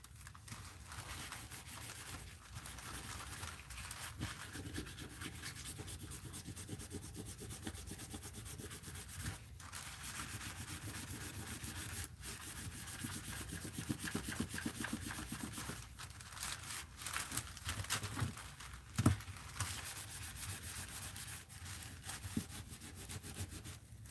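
Steady, rhythmic scrubbing rasps back and forth as white paint is scrubbed off art tools, close up and continuous with a few knocks, no voices.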